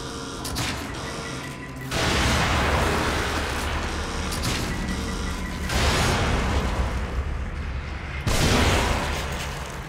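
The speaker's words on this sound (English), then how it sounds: "Explosion!" Explosions in the horror game The Evil Within: loud, roaring booms that swell and sustain with rumbling debris, several surges in a row filling the whole stretch.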